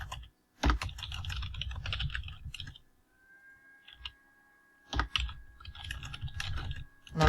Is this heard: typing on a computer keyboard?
yes